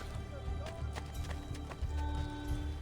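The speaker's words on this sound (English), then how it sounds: "Oh, it's a horse." A horse's hooves clip-clop in Assassin's Creed Brotherhood, quick faint steps within the game soundscape under low tonal background sound.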